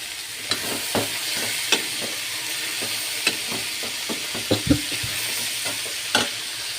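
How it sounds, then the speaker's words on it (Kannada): Sweet corn fries in a pan under a constant hiss and sizzle, with intermittent clinks and scrapes of a spoon stirring, close and moderately loud, with no talking. "ಚೆನ್ನಾಗಿ ಮಿಕ್ಸ್ ಮಾಡಬೇಕು."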